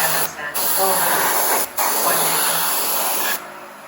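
Spray can hissing paint onto motor cases during a Banshee engine makeover, in long continuous bursts broken by brief pauses, close and loud.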